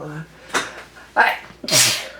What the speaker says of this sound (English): Oh, sorry, I had to sneeze.